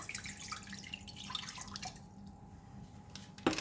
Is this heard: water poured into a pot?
yes